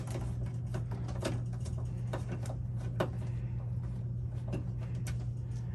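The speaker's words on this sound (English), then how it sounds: "I'm going to remove those screws. So I'm backing those out right now." Screws being backed out of the right side panel of an Rcom pet brooder, model B90N or B60N, heard as faint irregular ticks and small clicks over a steady low electrical hum, close by with no talking.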